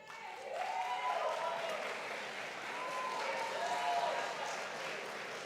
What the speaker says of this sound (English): give one rip-roaring round of applause and cheers